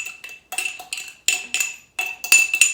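Cayenne pepper powder is spooned into a blender, giving a string of sharp metallic clinks and taps in uneven bursts, close and clear with no voices.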